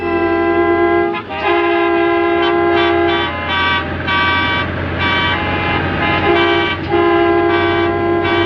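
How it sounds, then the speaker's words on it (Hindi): Long, continuous vehicle horns blare loudly together in an animated cartoon, holding steady tones with brief breaks, over heavy traffic rumble. "अरे, ये सब हॉर्न क्यों बजा रहे हैं?"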